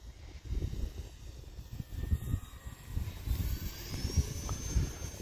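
A small E-flite Turbo Timber Evolution 1.5m electric RC plane flies overhead outdoors, its faint whining motor tone rising and shifting in pitch as it passes, with steady wind buffeting and rumble throughout.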